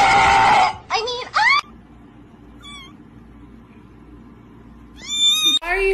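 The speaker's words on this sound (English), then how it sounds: "His meow is so cute." Cat meowing in short, rising and falling calls, several meows spread across the clip, close and fairly clear, with a harsher burst at the start and brief voices among the calls.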